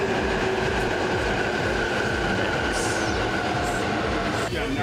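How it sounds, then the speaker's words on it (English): A fancy train in Japan rolls along with a steady rumbling, rushing rail noise and a faint squeal, continuous and fairly loud, with a short high chirp partway through. "He's taking a fancy train."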